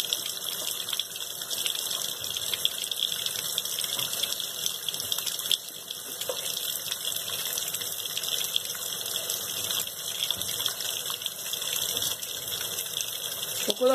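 Water runs steadily into the dispenser of a Consul Maré Super CWL10 washing machine to rinse a cap of fabric softener, a continuous close gushing stream that lasts throughout.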